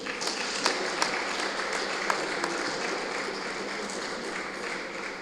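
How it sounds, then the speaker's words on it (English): Audience at a book launch for a daily leadership book gives a steady round of applause, dense even clapping sustained throughout at moderate distance with no talk over it. "I think he deserves a bigger round of applause."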